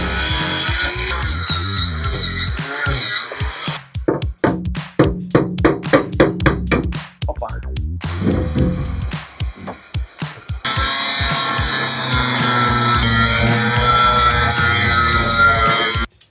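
A power drill works on a police car's interior panels, with a long steady whir, then a stretch of rapid stuttering bursts and pauses, then another sustained loud run near the mic.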